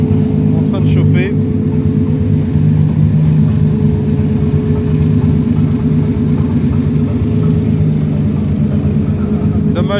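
A Nissan R35 GT-R drag car warms its tyres, a loud, close, steady low engine rumble holding for the whole stretch, with a voice talking over it.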